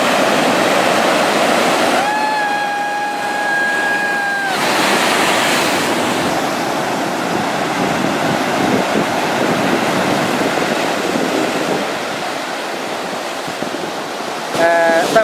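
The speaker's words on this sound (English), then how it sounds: "We actually had a few waves hit about half an hour ago on the rocks, quite substantial waves" Large waves from a 2011 Australian tsunami warning crash steadily onto coastal rocks, a continuous loud roar of surf with no pause, and a brief tonal whistle rising over the wash early on.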